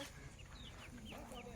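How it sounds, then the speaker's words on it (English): Chickens in a small riverside community on the Amazon cluck in short repeated notes, close, over a steady low background rumble, with a faint voice also present. "They have their chickens, and check out the baby ducks."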